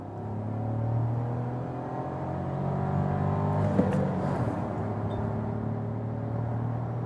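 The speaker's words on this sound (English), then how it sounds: "show you something of acceleration, 50 to 100," Audi Q2 facelift accelerating from 50 to 100 km/h, a steady engine drone with rising tone heard from inside the cabin, even and moderately loud over road noise.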